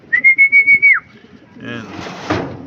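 Racing pigeon arriving at its loft during a training race: a steady pulsing whistle-like tone repeats about six times and then slides downward, followed by a broad rustling flurry like wings and movement close by.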